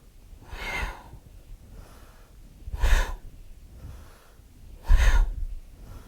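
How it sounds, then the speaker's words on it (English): Sharp, forceful nasal exhalations of breath-of-fire yoga breathing, three distinct puffs spaced about two seconds apart, close and fairly quiet over a soft breathy background. "with the exhalation, we suck in the belly while breathing out sharply through the nose"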